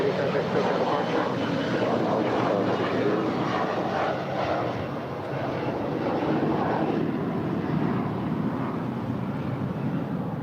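A Boeing 777-300ER jet airliner taking off at LAX gives a loud, continuous, broadband engine roar that holds steady for about ten seconds with a slight dip midway.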